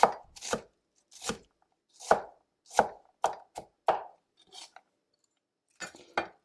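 A knife finely dices vegetables on a cutting board, giving about a dozen crisp, close chops in uneven bursts separated by short silent pauses.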